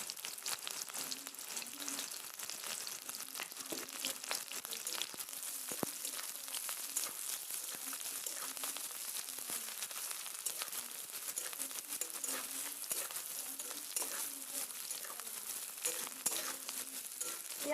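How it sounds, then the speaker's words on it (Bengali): Chopped onion and green chili fry in a pan, giving a steady, even sizzle with fine crackling that runs unbroken for nearly eighteen seconds, close up and with no talking. "এবার পেঁয়াজ কুচি দিয়ে দিচ্ছি"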